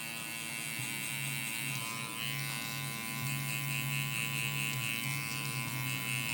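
A Babyliss SnapFX hair clipper fitted with a 1.5 guard buzzes steadily and close up throughout a burst fade haircut, a constant electric hum with no pauses and no voices.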